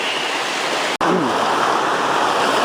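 Reedy Creek in Victoria rushes loudly in full flood, a dense, constant roar of turbulent water close by, broken only by one brief click.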